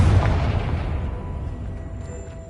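A Confringo spell blast in Hogwarts Legacy on PS5 lands as a loud, deep boom right at the start, then rolls off into a long rumbling decay.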